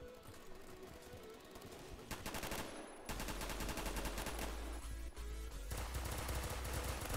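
Rapid automatic gunfire from a GT rifle in the first-person shooter Phantom Forces, dense bursts and continuous rattling shots that grow louder and fuller partway through, mixed with game effects, no voices.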